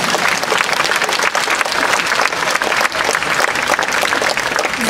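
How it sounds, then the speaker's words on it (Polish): Audience applause at a concert in the Chojnice moat, loud, steady and continuous clapping from a large crowd throughout. "te oklaski przed chwilą były takie kurtuazyjne"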